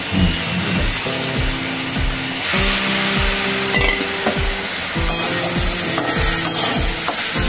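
Cumin seeds sizzle and crackle in hot oil for a curry of bottle gourd with soy chunks, with steady frying hiss, repeated scraping strokes of a spoon stirring the pan, and a thin background hum.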